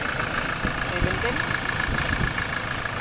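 A 2017 Toyota Innova diesel engine idles steadily after its turbo was cleaned, a constant near rumble with a faint tonal whine running throughout, while people talk over it.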